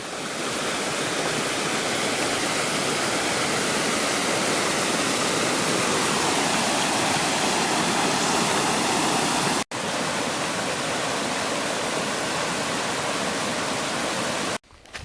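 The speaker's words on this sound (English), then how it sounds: "Seems to be a fairly fast flowing river here, which is pretty cool." A fairly fast-flowing river in Snowdonia roars as a dense, continuous rush of water, loud and close, with a brief dropout near the end.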